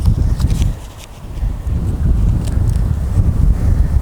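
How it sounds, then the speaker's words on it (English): Strong wind buffets the microphone outdoors among spring canola crops, a loud, steady low rumble with gusty swells that dip briefly before surging back. "This wind is making it a little bit challenging"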